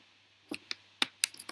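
Computer keyboard being typed on, five or six sharp, distinct key clicks spaced irregularly, close but quiet against near silence.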